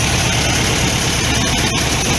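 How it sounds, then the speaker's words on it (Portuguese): A VW Beetle engine with dual Solex 32 PDSI carburetors idles at a slightly high speed, a loud, steady, close rumble with no talk. "a rotação do motor está mais alta do que eu gostaria"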